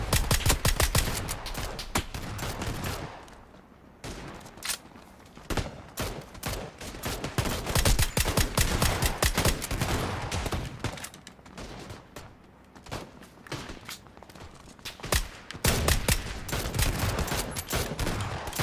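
Rapid bursts of automatic gunfire from PlayerUnknown's Battlegrounds, Xbox Edition, with sustained sprays and short volleys repeating across the scene, loud and close, broken by brief lulls.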